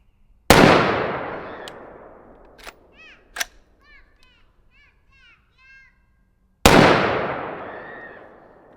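A tuned 16-inch AR rifle fires unsuppressed outdoors, two loud sharp reports several seconds apart, each trailing off in a long echoing decay, with faint clinks and distant chirps in between.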